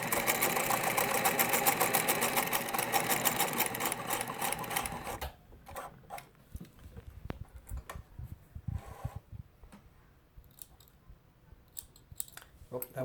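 Singer 252 sewing machine running a blanket stitch, a loud steady mechanical whir for about five seconds that stops abruptly. Clicks, scissors snips and handling noises follow, with some talking.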